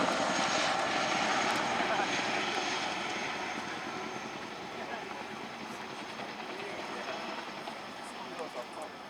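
The heavy, throbbing tandem-rotor drone of an RAF Chinook helicopter hovering nearby at an air show, steady and continuous, fading slightly over time, with faint talk beneath it.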